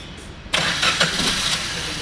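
A new Suzuki Ertiga car engine with a noise problem cranks and catches after a moment of quiet, then settles into a loud, close, steady idle with a few slight pulses.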